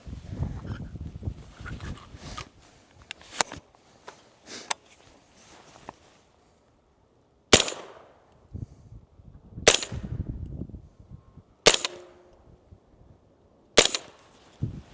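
Rifle gunshots fired through an AB Raptor suppressor come as a series of sharp, loud cracks spaced about two seconds apart, each trailing into a short echo, with quieter handling noises between them.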